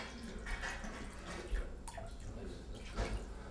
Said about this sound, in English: And I'm going to add 1 cup of water, just about 1 cup of water.